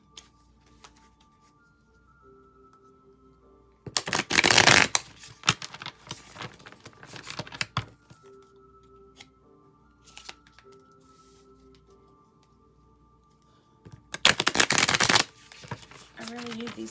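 Two bursts of a small gilded oracle card deck with gold edges being shuffled, crisp rapid riffling close by, separated by quieter stretches with a faint tone underneath.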